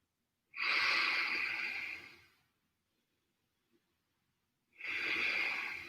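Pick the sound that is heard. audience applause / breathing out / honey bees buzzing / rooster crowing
breathing out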